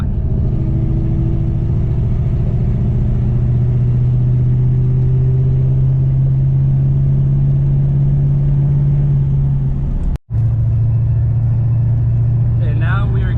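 An LB7 Duramax diesel truck fitted with a turbo horn rolls onto the throttle, its engine drone rising steadily in pitch under a faint whistle, with a brief dropout near the end and a voice speaking over it inside the cab.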